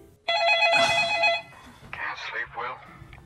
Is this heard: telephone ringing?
yes